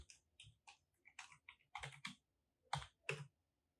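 Someone types a password on a computer keyboard, a quiet, close sequence of about a dozen sharp key clicks in small irregular bursts with brief pauses between.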